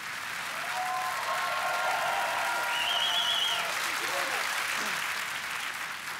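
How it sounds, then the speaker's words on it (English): An audience applauds and cheers a British Northern Ireland Secretary of State, with loud, sustained clapping throughout and a whistle rising above the crowd. "The audience gave her a cheer, like a rock star for a British Northern Ireland Secretary of State."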